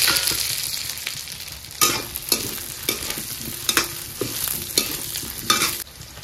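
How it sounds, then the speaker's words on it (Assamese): Potatoes frying in oil in a pan, with a constant close sizzle broken by several sharp scraping stirs at a loose, irregular rhythm. "আমাৰ আলুখিনি ভাজি আছোঁ"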